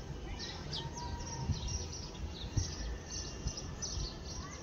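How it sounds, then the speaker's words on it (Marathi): Sparrows chirp outdoors at sunset in a scatter of thin, high calls, fairly faint over a steady background rumble. "चिमण्यांचा वगैरे आवाज येतोय फुल"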